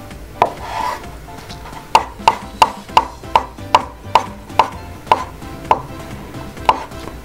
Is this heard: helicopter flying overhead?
no